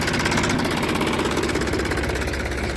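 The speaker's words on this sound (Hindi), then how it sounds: "ट्रैक्टर स्टार्ट कर लिया है," A tractor engine just after starting runs at a loud, steady idle, its rapid knocking pulse continuous and close throughout, with no voices.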